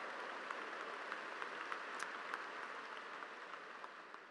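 Audience applause at a school district convocation honoring students, a steady wash of clapping from a crowd with brief sharper claps standing out, continuous and alone without talk.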